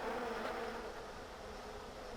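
Worker honey bees buzz in a dense, steady drone, a continuous close hum of many wings with no voices.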